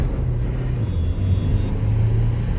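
A Toyota Innova Crysta with a newly replaced clutch drives along, its engine a steady low hum with a mild rise in pitch and road rumble heard from inside the cabin.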